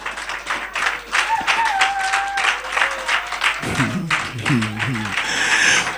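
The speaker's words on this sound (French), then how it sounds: "Quelqu'un acclame Jésus." A church congregation applauding and cheering, dense clapping and crowd noise throughout, with voices calling out and a sung or shouted tone rising near the end.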